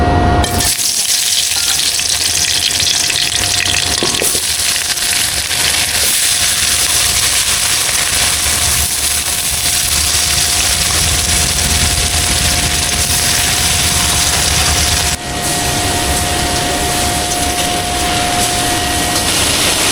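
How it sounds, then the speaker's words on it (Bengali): Fish frying in hot oil in a village kitchen gives a loud, dense, continuous sizzle that roars close up for the full stretch without pause. "মাছগুলো তো ভাজা হয়ে গেছে"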